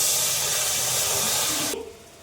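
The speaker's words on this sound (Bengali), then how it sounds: "কড়াতে সামান্য জল দিয়ে নিলাম," Water poured into a hot wok sets off a loud, steady hiss of steam that holds for nearly two seconds before dropping away sharply to a faint simmer.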